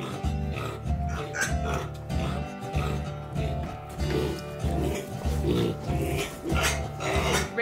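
A Red Wattle and Mangalitsa cross meat pig grunts and snorts repeatedly in a rough, rhythmic series, close by, with some clattering in the background.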